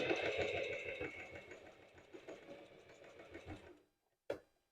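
A sewing machine stitches straight and backstitch seams on a lace bra, with a close rapid mechanical chatter that slows and stops, followed by a short click after a moment of quiet.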